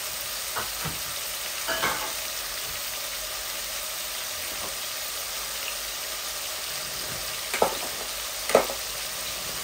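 Chicken frying in a pan with fennel and cumin gives a steady, fairly loud sizzle and hiss throughout, with a few brief stirring scrapes and pops near the end, no voices.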